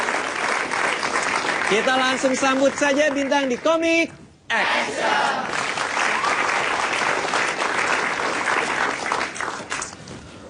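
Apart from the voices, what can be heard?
audience applause for comedian Bintang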